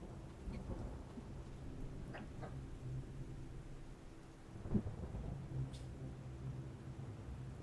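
Stormy ambience from the video game Neva, with a constant low rumble of thunder and rain and a few faint cracks and rolls rising briefly out of it, heard alone.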